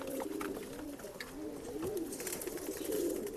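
Rekadar breeding pigeons cooing in a loft in Bangalore, soft rolling coos repeating through the clip, fairly close and moderately quiet.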